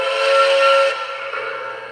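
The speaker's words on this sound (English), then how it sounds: "So I really like the air pump sounds with this." A model steam locomotive of the Atlantic type lets out a bright, sustained steam-whistle-like hiss for about a second, then a softer, lower hiss continues steadily, up close and alone.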